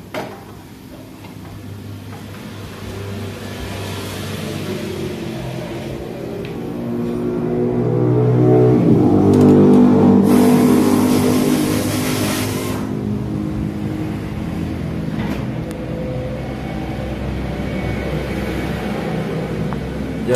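A carburetor motorbike engine is kicked over and left idling, a steady low rumble with harmonic bands that swells briefly in the middle before settling back to an even idle.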